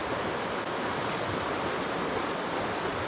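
Murky, rain-swollen river rushing past a wilderness cabin on an overcast day, a steady broadband roar with no break.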